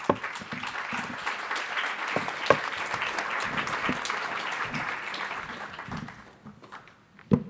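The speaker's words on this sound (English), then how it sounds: "And I think they merit also applause." A conference audience claps in sustained, even applause for about six seconds, a dense patter of many hands in a room, before it fades out and one last clap sounds.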